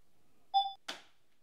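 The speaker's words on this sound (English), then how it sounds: "So I'll just go ahead and use the actual shutter button." A camera on a tethered shooting setup gives a short electronic focus beep, then its shutter fires with one crisp mechanical click, close and fairly quiet, followed by silence.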